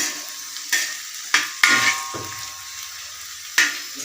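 Fried potatoes scraped and shifted from a pan onto another plate, with several sharp utensil clanks and scrapes spaced apart over soft background sizzle, close by.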